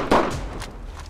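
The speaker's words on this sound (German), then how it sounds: "wir haben direkt die ersten Schüsse gehört" A short, booming gunshot in a video game, one sharp report with a brief echoing tail, fairly loud and with no talk over it.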